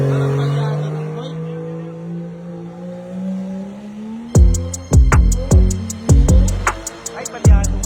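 A car engine misfiring, stuttering through a series of sharp, uneven bursts with tire noise over the last few seconds. A voice talks over a low hum first.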